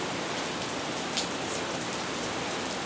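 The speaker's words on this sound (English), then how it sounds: "as the rain gets heavier" Heavy rain pours steadily on the Shimanami Kaido cycling route in Japan, a dense even hiss of drops striking surfaces, close and unbroken.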